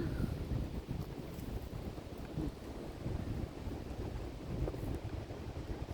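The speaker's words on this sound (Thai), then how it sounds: "โอ้ลมแรง ลมแรง" Strong wind gusting through a forest, a steady, close roar buffeting the microphone for the whole stretch, with no voices.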